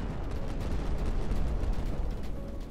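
Dense, continuous booming and rumbling of rapid spaceship cannon fire in the video game Final Theory, with no pauses, loud and heavy in the low end.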